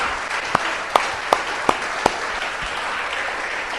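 A church congregation applauds together, a steady wash of dense clapping with a few sharper, louder claps standing out near the start, fairly loud and sustained throughout.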